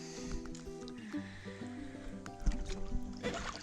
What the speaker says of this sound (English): just rowing the last few strokes back into the ramp at Violet Hill